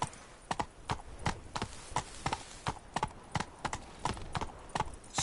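Hoofbeats of a horse galloping in The Witcher 3: Blood and Wine, steady rhythmic clip-clop thuds repeating roughly twice a second, close and clear over a low ambient bed, with no talking.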